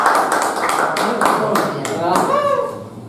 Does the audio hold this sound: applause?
yes